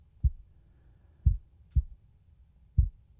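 Four low, thudding AI-generated heartbeats at an uneven pace, loud and close against a quiet background hum.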